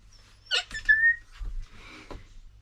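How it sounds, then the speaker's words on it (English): A puppy whimpers with thin, high squeaky cries, one brief sharp squeal standing out, soft and close amid quiet rustling. "this is the puppy"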